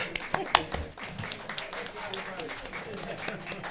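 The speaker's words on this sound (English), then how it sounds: "So he gets more applause than I do." Scattered clapping at a board of commissioners meeting, a small group of hands tapping unevenly for a few seconds, fairly quiet and close, with people talking over it.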